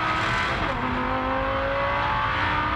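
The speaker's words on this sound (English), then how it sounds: "can hear him use the curb, can't you? That little rattle." Lamborghini Super Trofeo race car at Spa-Francorchamps, engine droning loud and close as it runs over the curb, a steady roar with a faint rattling texture through the short span.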